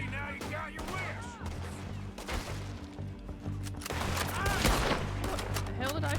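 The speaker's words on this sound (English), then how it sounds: "What the hell did I shoot at?" A burst of gunfire from the video game Red Dead Redemption 2, several rapid shots clustered together amid game noise, with voices and music-like tones around them.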